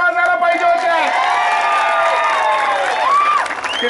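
A BJP campaign rally crowd in Malkapur cheers and applauds, with whoops and shrill whistle-like shouts rising over a steady wash of clapping, loud and continuous.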